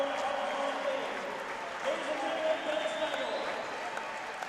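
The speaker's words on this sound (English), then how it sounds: "nice round of applause" Audience applause for a North Dakota High School Hall of Fame inductee at a hockey rink, a sustained, moderately distant wash of clapping with some crowd murmur mixed in.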